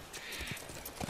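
Horse hooves clip-clopping during riding in a video game, a faint, quick run of soft thuds at moderate distance with no talking.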